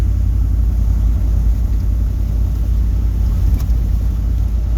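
A Chevrolet Suburban with worn, loose steering and a fast-reading speedometer cruises at highway speed, its engine and road noise forming a loud, constant low rumble heard from inside the cab, with no voices.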